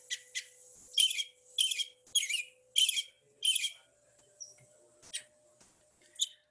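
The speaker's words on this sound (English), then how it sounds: "An American robin, I'll just do the call because it's probably a call you have heard before, a song" An American robin sings its cheerful spring song, a run of about eight clear, warbling phrases separated by short pauses, fairly close and alone.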